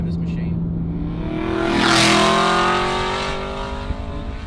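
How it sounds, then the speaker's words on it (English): A 4.3 V8 Aston Martin Vantage nearing fifteen years old climbs through the gears, its exhaust note rising in pitch and swelling as it passes near, then easing off, with a voice talking over it. "the sound of that exhaust note as you take the car through the gears"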